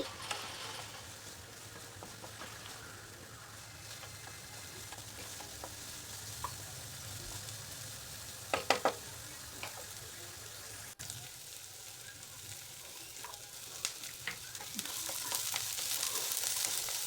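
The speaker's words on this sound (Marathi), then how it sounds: "टोमॅटो छान परतून घ्यायचे ह्यामध्ये आता ताजे मटार घालायचे" Tomatoes and fresh peas sauté in a pan for a traditional sorghum-flour noodle dish, a soft steady sizzle with a few sharp clinks of a spoon stirring midway and louder frying near the end.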